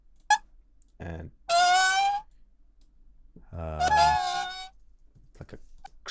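Library sound-effect cat meows: a short squeak, then two drawn-out, rising-and-falling meows separated by a pause, fairly loud and close against a quiet background.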